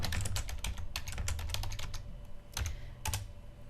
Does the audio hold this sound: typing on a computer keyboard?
yes